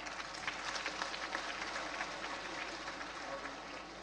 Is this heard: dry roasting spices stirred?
no